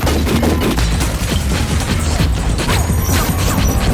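Dense, loud gunfire fills an action film scene, rapid overlapping shots and crashing impacts running continuously without a break, with no voices.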